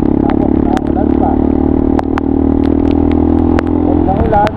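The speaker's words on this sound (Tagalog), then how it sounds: "Malyado pa itong motor ko. Parado ng karburador." A motorcycle with carburetor trouble runs on a solo charity trail ride in the rain, its loud, steady engine drone close by with scattered clicks and clatter over it.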